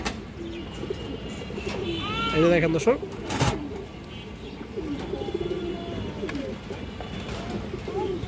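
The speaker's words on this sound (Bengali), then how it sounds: "চার পিস খরা গলা কবুতর।" Pigeons in a seller's stock, including khora-gola birds, coo in soft repeated rising calls close by, while someone talks over them almost throughout.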